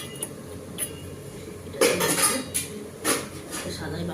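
A white bowl clinks and clatters against a pan as it is set over oil, with a few sharp knocks of dishware close by and no speech.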